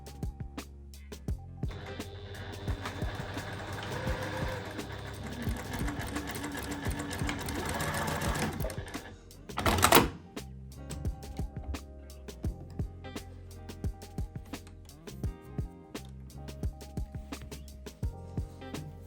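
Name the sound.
sewing machine sewing skirt waistband seam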